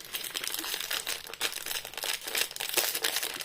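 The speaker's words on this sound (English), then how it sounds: "sorry for the rustling" Close, steady crinkling and crumpling of a plastic Lego packaging bag from a small dinosaur set, with irregular bursts of rustle throughout and no voices.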